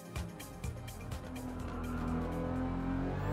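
A Nissan Silvia S15 with a 2JZ engine swap, driven on the Nordschleife in Gran Turismo 7, drones with a steady, loud engine note that climbs gradually in pitch, with faint tire noise mixed in.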